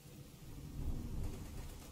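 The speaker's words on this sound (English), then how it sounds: "Oh, damn, it's raining, y'all." Rain and rolling thunder in the video game The Division 2, a low steady rumble that swells midway and stays continuous, with no voices.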